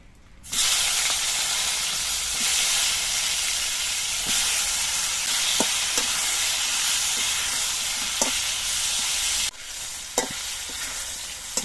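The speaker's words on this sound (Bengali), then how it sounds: "এবার এই তেলের মধ্যে আমি বেগুনগুলো ভেজে নিচ্ছি" Brinjal (eggplant) pieces fry in hot oil with a loud, steady sizzle that runs close and unbroken for the whole stretch, with occasional soft pops and stirring knocks and a brief dip near the end.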